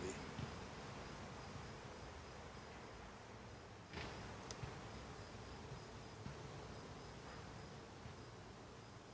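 Faint, steady buzzing of many honey bees close to the microphone at an open hive during inspection, a dense continuous hum with a brief knock partway through and no voices.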